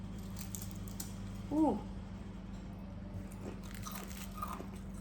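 Faint crunching bites into crispy gluten-free fried chicken served with sambal, a few soft crackles spread over several seconds beneath a steady low hum, with one brief voiced sound midway.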